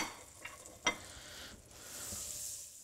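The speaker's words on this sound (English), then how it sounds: "this is going to sizzle pretty well when we put it in" A couple tablespoons of butter meets a hot skillet, giving a soft, continuous sizzle with one sharp clink early on, the hiss gradually swelling as the butter melts.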